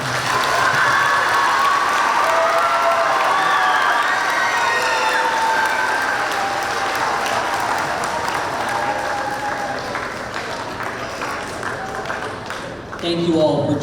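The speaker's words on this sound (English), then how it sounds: "Let's give Ms. Mosley one more round of applause." A crowd, children among them, gives Ms. Mosley a loud round of applause with cheering at a middle school ribbon-cutting ceremony. The clapping stays full and sustained throughout and eases slightly toward the end.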